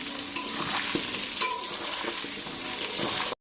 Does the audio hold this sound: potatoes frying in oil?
yes